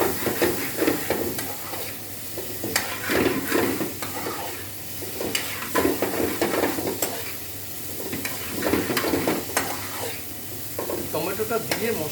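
Chopped tomatoes sizzle loudly in a pan of frying spice masala for a Bengali fish curry with cauliflower and potato, with repeated stirring scrapes over a constant hiss, close-up and without talk.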